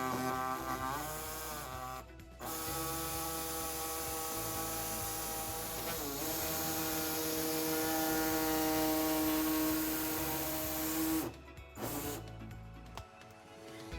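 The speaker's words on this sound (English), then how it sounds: "So today we'll be using an air saw to trim our fascia" A pneumatic air saw cuts through the plastic bumper fascia of a 2012 Volkswagen Tiguan, giving a steady, loud buzzing drone with brief pauses between runs.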